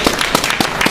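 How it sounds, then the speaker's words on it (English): An open-mic audience claps to welcome a performer. Claps come in a few distinct rhythmic bursts over one second, fairly close and loud. "Round of applause, please."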